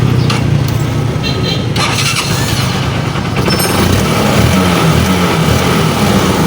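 A TMX Supremo motorcycle with a faulty pulser that had trouble starting fires up and is revved, a loud, close engine running steadily throughout with a brief squealing whine near the start and rising revs toward the end.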